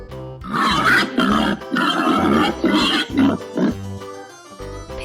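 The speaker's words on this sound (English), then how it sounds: "Pig." A domestic farm pig grunts and snorts repeatedly in close, loud bursts with short pauses between them, no talking heard.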